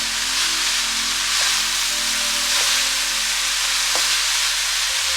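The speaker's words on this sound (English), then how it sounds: "all I'm gonna do is just keep stirring this to get it started" Pork and cabbage fry in a pan under steady stirring, giving a continuous close sizzle with occasional utensil scrapes and taps against the pan, and no talking.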